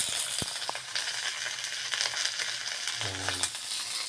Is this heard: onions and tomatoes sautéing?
yes